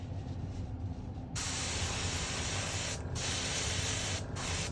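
An airbrush on a BPZ airbrush arm sprays paint onto dinosaur figures, a steady close, loud hiss running continuously with two brief dips in pressure.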